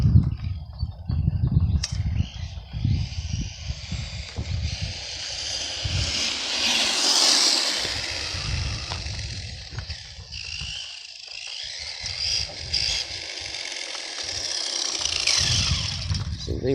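A Feiyue FY01 RC truck runs nearby with a high electric motor whine that rises and falls as it drives, along with rumbling tire and ground noise and some wind buffeting. There is no talking.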